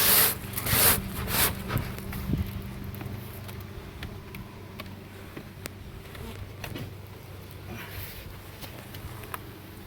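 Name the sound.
bees buzzing around an opened beehive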